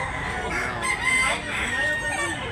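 A Zamboanga White bullstag gamefowl rooster crows loud and close in one drawn-out call at a rooster sale in Tabunok, Cebu, with faint background murmur.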